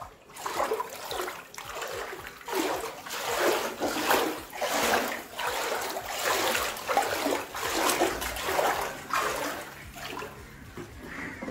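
Water splashing and sloshing continuously across a flooded street, a steady loud wash with repeated surging pulses, no voices.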